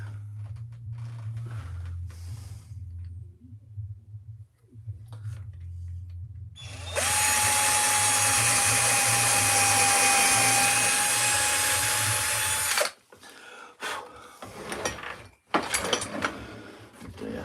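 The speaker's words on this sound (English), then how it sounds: "I think this drill's going to last forever because it was on 1 bar on the battery." A cordless drill with a nearly flat battery drives a screw into wood while building a garden stool, one loud sustained whine of about six seconds, preceded and followed by quieter handling and knocking.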